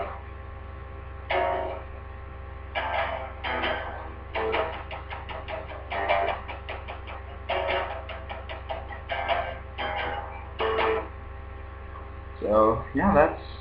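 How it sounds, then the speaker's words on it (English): Muted strumming on an electric guitar heard unplugged from the amplifier, playing a song: quiet percussive scratchy bursts in short rhythmic groups over a steady low mains hum. "muted strumming, it sounds like this"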